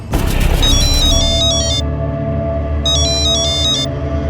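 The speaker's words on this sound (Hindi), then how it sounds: "पर उस दिन हमको फोन आया साहब गजरा भाभी का" An electronic phone ringtone chirps in two short bursts of repeated high beeps over a loud, busy background of music or noise.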